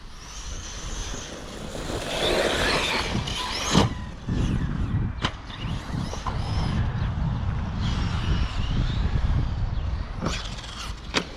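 An electric RC truggy drives outdoors, its motor and tyres producing a steady broadband rush with wind noise. Sharp knocks and clatters from bumps and landings break through now and then.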